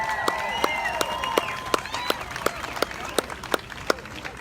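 A crowd at an outdoor rally at the Arizona State Capitol in Phoenix gives scattered, sharp claps that land one by one in a loose, steady rhythm, with voices carrying over a background murmur.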